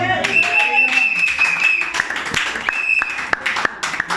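A church congregation at a revival service applauds and cheers, with clapping and raised voices over sustained tones, closing with a few sharper, scattered claps.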